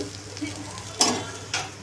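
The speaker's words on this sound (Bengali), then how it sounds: "মাছটা ভেজে নিই" Fish fries in a pan in a home kitchen. A steady, close sizzle crackles throughout, with two brief louder hissing bursts about half a second apart.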